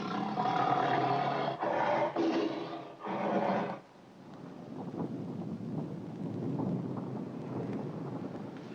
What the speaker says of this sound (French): Continuez à rugir. Nous pourrons vous suivre à l'oreille.